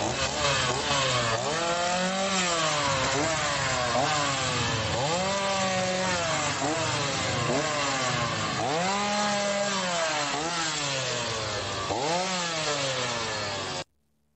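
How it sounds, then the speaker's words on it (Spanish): A chainsaw revs repeatedly during a street protest performance, loud close engine surges rising and falling in a steady rhythm for about fourteen seconds before cutting off abruptly. "Milei cortando personas con la motosierra"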